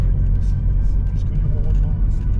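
An Alfa Romeo Brera 3.2L V6 JTS Q4 rumbles low and continuous from inside the car as it pulls away, a deep, heavy drone with a voice faintly over it.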